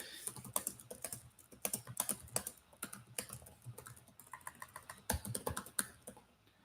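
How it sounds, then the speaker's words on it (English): Rapid, uneven clacking of keys on a computer keyboard, close and fairly crisp, in bursts with short pauses and no voices. "So if the typing's a little loud."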